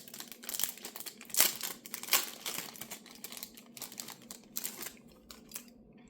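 Crinkly wrapping is peeled and torn off enamel pins at close range, making soft, irregular rustles and crackles with brief louder bursts and no speech.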